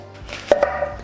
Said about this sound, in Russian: Следующее, что нам нужно, это нарезать яблоки.